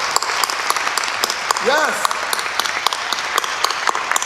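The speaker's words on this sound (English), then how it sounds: "Let's give a huge round of applause, please." Scattered audience applause at an awards event honoring Echo Awards winners, uneven claps spread through the hall under a host's voice and a brief sung or called-out tone, fairly distant and moderate.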